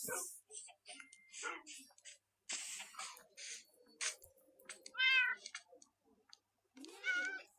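Cats and kittens meow repeatedly in short, bright calls, some drawn out and wavering, spaced through the stretch with gaps and faint clicks between, fairly close and moderately loud.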